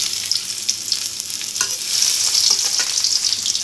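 Ginger hitting hot oil in a wok, a steady close sizzle with crackling spatters and a brief stirring clatter partway through, growing slightly louder toward the end.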